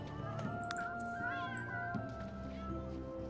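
A cat in The Sims 3 lets out several close, clear meows in a row, with light background game sounds.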